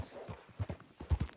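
Horse hooves clip-clop in Red Dead Redemption 2, a few uneven, close thumps over roughly a second, with a faint whinny-like murmur and low background game ambience.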